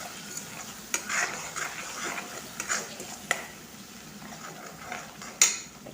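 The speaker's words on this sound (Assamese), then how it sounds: "এয়া এতিয়া অলপ দিছোঁ মিট মছলা, হালধি, নিমখ, সেইখিনি এতিয়া ভালদৰে লৰাই দিম।" A spoon stirs meat masala, turmeric and salt through hot oil in a pan, giving soft scrapes and knocks against the metal over a faint sizzle, quiet and close.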